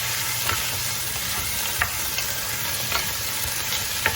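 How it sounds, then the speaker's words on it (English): Pork ribs sizzle and crackle as they are stirred in a frying pot, a close, continuous hiss marked by a few soft scrapes and clunks of the utensil. "So the ribs that I cleaned, I'm just going to put it all in. Just going to stir it up a little bit."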